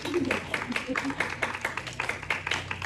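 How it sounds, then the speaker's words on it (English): Audience applause in a church service, scattered rhythmic clapping from a modest crowd heard at moderate distance, with background talk mixed underneath. "Give her a round of applause."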